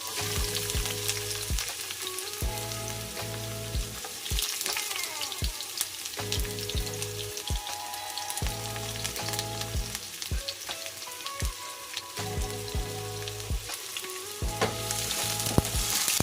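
Onion hitting hot oil in a pan for sautéed bitter melon with ground pork, a steady crackling sizzle with repeated spatula scrapes and clacks over about sixteen seconds, no talking.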